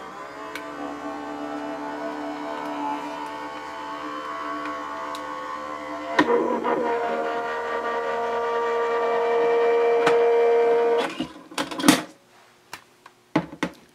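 A Sizzix Big Shot Switch Plus die-cutting machine hums and whirs steadily as its rollers feed material through, with sharp clicks and clunks near the end as the plates come out, close up and with no talking.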